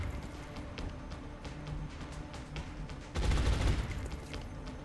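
Gunfire from the video game XCOM: Enemy Unknown: rapid rattling bursts of weapon fire run throughout, ending in a louder, denser volley near the end.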